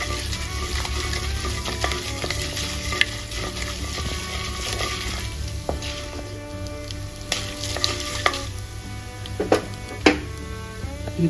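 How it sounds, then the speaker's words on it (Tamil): Dal roasting in a pan with fenugreek for small onion kulambu, a steady close sizzle broken by occasional sharp clicks and stirring scrapes, moderately loud and without speech. "பருப்பு வந்து செவக்க வறுத்துக்கலாம்"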